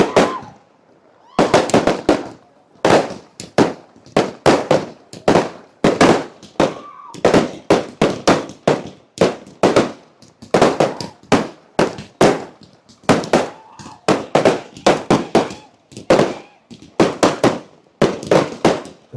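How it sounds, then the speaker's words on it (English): Fireworks bursting over a cricket final celebration, a long run of sharp, loud explosive cracks and pops in rapid irregular clusters with brief gaps, close and dominant with no talk. "The sky is lit up with all those fireworks."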